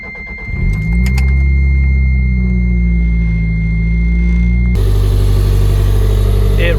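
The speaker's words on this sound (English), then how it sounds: "As you guys can hear, this motor is very smooth." A 1991 Toyota MR2 SW21 with its 4-cylinder engine turning over and settling into a smooth, steady idle, close and loud, with the tone shifting slightly near the end.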